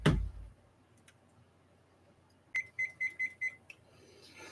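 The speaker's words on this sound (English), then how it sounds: "I do have a timer that I set for 5 minutes." A five-minute timer gives a quick run of five short, evenly spaced electronic beeps at close range, with quiet room tone before and after and no talk.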